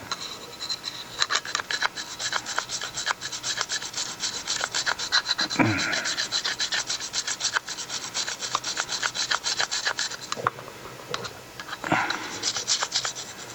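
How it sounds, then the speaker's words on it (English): A brush scrapes steadily along the side of a Silencerco Sparrow suppressor during cleaning, producing a close, continuous run of gritty rubbing strokes with a few sharper scrapes. "Take your handy fancy brush, scrape along the side there."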